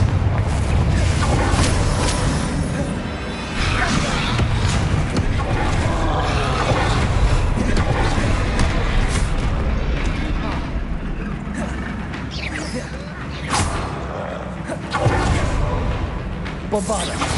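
Spell explosions from Bombarda and Confringo go off continuously in the Hogwarts Legacy game, a dense wash of booms and whooshing blasts with a voice calling out spell names over the din.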